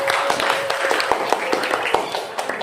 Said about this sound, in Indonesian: Boleh tepuk tangan untuk teman kalian.